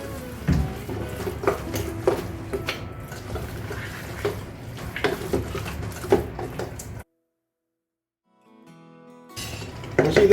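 About 1.8 kg of mutton is tipped into a cooking pot for bachelor-style mutton masala and stirred through. Wet clatters, scrapes and sloshing repeat closely, then a silent pause before the stirring resumes.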